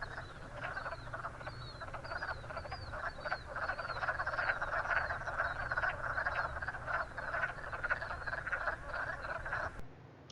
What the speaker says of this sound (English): if you get them all a bunch of bachelors in a group together,